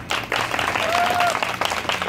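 Applause and clapping for Sunday school children at a sports day balls-in-basket game; a crowd claps steadily and fairly loud for about two seconds, with a voice briefly heard in the mix.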